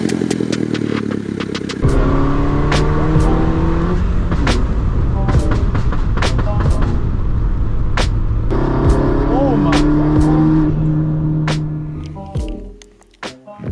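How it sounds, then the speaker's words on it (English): A loud, raspy straight-piped exhaust with the muffler removed on a manual Mini Cooper S revs repeatedly, rising and falling in pitch with crackling pops, then settles to a low idle at the end. "Literally straight piped. Muffler is gone"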